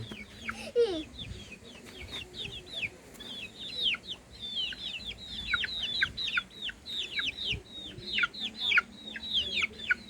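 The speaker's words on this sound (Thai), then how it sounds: "มาชมวิธีเลี้ยงไก่นะครับ" Chickens, including young birds, cluck and chirp busily at an evening feeding, with dense high calls overlapping throughout at close range.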